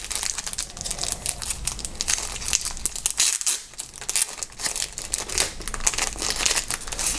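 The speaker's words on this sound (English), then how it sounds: "the device comes in a little protective cellophane, so we'll take that off." Protective cellophane wrapping is peeled and crumpled off a Raksa iDet RF detector, producing continuous close crackling and crinkling with brief tearing bursts throughout, loud and alone without speech.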